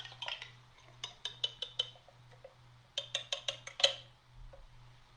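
Naga baked beans are tipped from a tin into a bowl with two quick runs of sharp metallic clinks and taps against the rim, quiet and close, with no talking.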